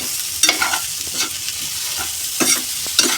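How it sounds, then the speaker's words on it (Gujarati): Spiced potato and pea filling for aloo matar vada being stirred and mashed in a pan, with close, loud scraping strokes in irregular bursts over a soft sizzle and no speech. "આપણે આ માવો બનાવવાનું છે, મિક્સ કરવાનું છે."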